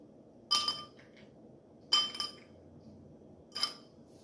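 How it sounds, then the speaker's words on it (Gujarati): Ice cubes for a strawberry mojito are dropped into a glass in three separate bright clinks, evenly spaced and close against a quiet background. "ice cube,"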